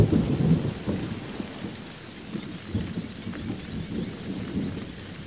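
Heavy Kalahari rainstorm, a dense rush of rain with low rolling thunder rumbling underneath, loudest at the start and swelling again midway.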